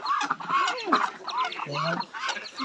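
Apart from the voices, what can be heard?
ducks and chickens clucking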